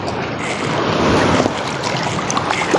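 Large ocean waves wash and churn around a small fishing boat, a loud, continuous rush of water with wind buffeting the microphone and no pauses.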